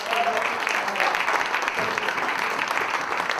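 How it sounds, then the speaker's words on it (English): Steady, dense applause from a crowd, clapping continuously for the full stretch with no talk over it. "Let's give her a round of applause"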